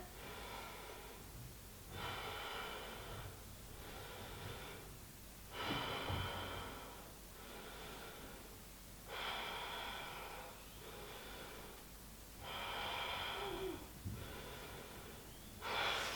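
Slow, deep yoga breathing, about five long airy breaths in a steady rhythm, each a few seconds apart, close and clear with no talking.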